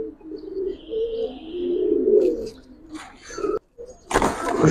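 Giribaj pigeons in a loft give soft coos and a few chirps, close and moderately loud, then a sudden louder burst of rustling noise at the end.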